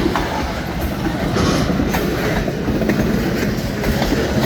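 A long freight train led by locomotive 1221 rolls past on the railway track close by, a loud, continuous rumble with steady clickety-clack of wheels over rail joints and no voices.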